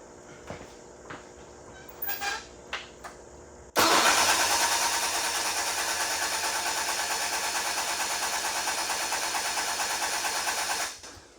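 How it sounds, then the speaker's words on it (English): A starter motor cranks the engine of a 1978 Sears GT18 garden tractor after sitting eight years in a barn: a few light clicks, then a loud, fast, steady whirring crank lasting about seven seconds before cutting off. "I'm gonna crank it from down here so you can see we got fuel"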